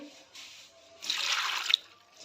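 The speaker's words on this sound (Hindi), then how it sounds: "अब हम इसमें 2 गरवी दूध की डालेंगे" Full-cream milk poured over grated carrots in a pot for gajar halwa: a short, close liquid splash lasting under a second, set between quieter trickling sounds.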